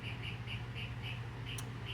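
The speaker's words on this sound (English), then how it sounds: "some bird is being noisy right now." Outside, a bird repeats a short call in a steady rhythm, roughly four times a second, faint and distant beneath a low background hum.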